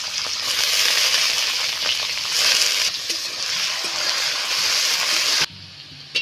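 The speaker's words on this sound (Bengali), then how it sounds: "একসাথে আমি কলার ডাল ভিজিয়ে নিয়েছি এটাও আমি ভেজে নেব" Soaked banana lentils fry in hot oil with a loud, dense hiss and bubbling crackle that surges and eases as they are stirred, cutting off sharply near the end; no speech.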